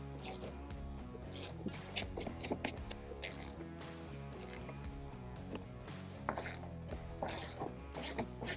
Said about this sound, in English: fasteners with a 10mm socket and 2 fasteners with a T30 Torx bit